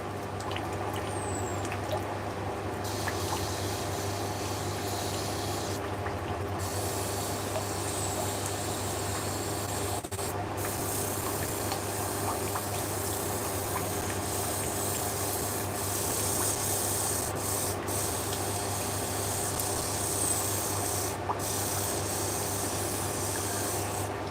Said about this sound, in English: I'll get a slightly higher grit sandpaper for it